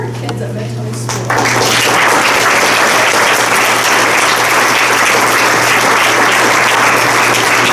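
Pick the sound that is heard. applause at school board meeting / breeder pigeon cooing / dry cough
applause at school board meeting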